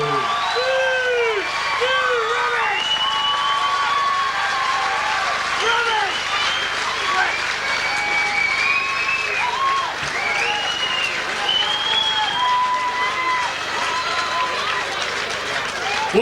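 A boxing-event crowd applauds and cheers a newly crowned IKBF middleweight champion of Australia, sustained clapping and whoops under an announcer's loud amplified voice.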